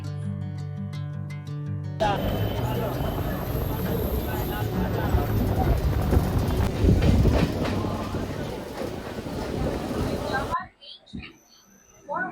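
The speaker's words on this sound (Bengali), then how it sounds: "ট্রেনটা এই দাসনগর স্টেশন ছেড়ে দিল" A local train leaving Dasnagar station rumbles and clatters along the tracks for several seconds, loud and close, before the noise cuts off abruptly; speech-like sounds surround it at start and end.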